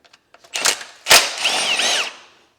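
A power tool works on the skid plate of a Beta 125 two-stroke dirt bike, giving short close bursts of whirring and a sharp mechanical clack, with a brief rising and falling whine before fading out.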